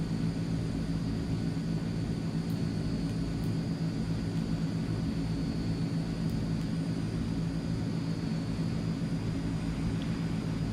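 Transall C160 twin propeller engines in Microsoft Flight Simulator, a steady droning hum with a constant tonal whine, even and unbroken at moderate level.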